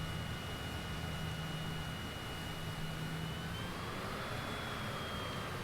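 A private jet slows on the runway after landing in Microsoft Flight Simulator, with a faint, steady engine roar and hiss and a thin high whine that runs without pause.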